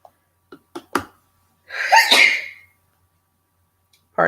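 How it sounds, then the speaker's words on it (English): A single loud, close sneeze with a sharp breathy burst, preceded by a few small clicks and sharp inhalations, then quiet. "I think I sneeze in every one."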